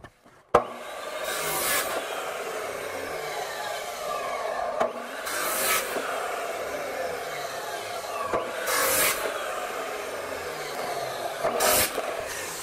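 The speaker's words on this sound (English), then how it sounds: "have an abrasive saw that I'll use to cut the individual pieces" An abrasive saw grinds through individual clamped metal pieces in a workshop, a continuous rasping, scraping hum broken by four brighter cutting surges spaced a few seconds apart, with a sharp knock at the start.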